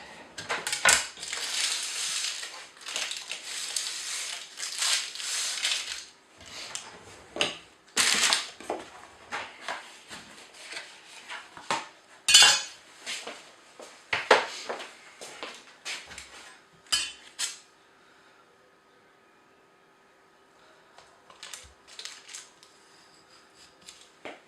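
A knife works through a baked vanilla cheesecake on a plate, giving a run of dry scraping, crunchy cuts and clinks in close bursts, then quieter taps toward the end.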